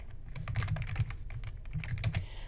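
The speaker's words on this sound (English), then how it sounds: "press F2 on your keyboard, and put your last name at the beginning of the document" Rapid, irregular typing on a computer keyboard while a document is renamed, steady close key clicks in bursts over a low background hum, with no talking.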